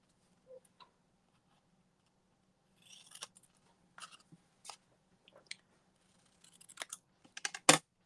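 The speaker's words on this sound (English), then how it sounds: "I'm going to flip it over and we're going to give that a trim" Scissors trimming a sheet of paper in a quiet room, a few isolated snips early then clusters of crisp cutting strokes, ending in a louder close snip.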